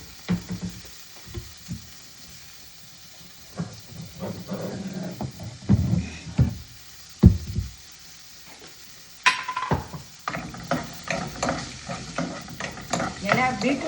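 Beetroot, garlic and onion sauté in a pan for beetroot chutney, with intermittent sizzling and the scrape and clatter of a spoon stirring against the metal, louder bursts coming in irregular clusters.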